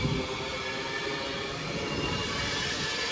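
A Class 390 electric train, unit 390-103, pulls out of Wigan North Western for London Euston, a steady, fairly faint rolling rumble with a thin high whine, continuous and free of voices.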